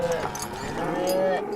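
A bull calf in the video game Call of Juarez Gunslinger lets out a close, drawn-out moo with a wavering tonal pitch, clear over a low game background.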